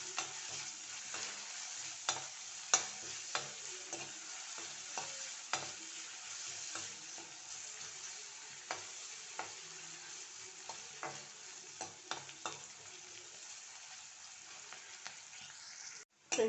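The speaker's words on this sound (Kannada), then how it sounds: "ಈಗ ನಾನು ಒಂದು ಚಿಕ್ಕ ಈರುಳ್ಳಿ ಹಚ್ಚಿಟ್ಕೊಂಡಿದ್ದೇನೆ, ಇದನ್ನು ಕೂಡ ಹಾಕ್ತೇನೆ. ಸ್ವಲ್ಪ ಫ್ರೈ ಆಗಲಿ." Small chopped onion fries in hot oil with a continuous soft sizzle, punctuated by frequent light spatula taps and scrapes in an uneven rhythm, close and moderately quiet, no voices.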